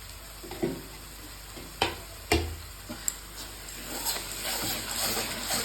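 Shankar fish sizzling as it goes into hot spiced oil, a soft steady fry broken by several sharp splashy bursts and clatters as pieces drop into the pan.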